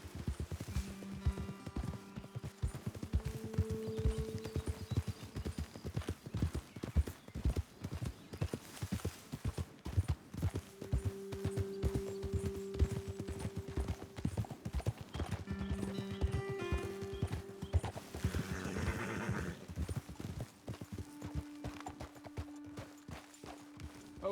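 Horses' hooves clip-clop steadily in Red Dead Redemption 2, a continuous rhythmic gait near and fairly loud under a game music bed, with a brief whinny-like burst toward the end.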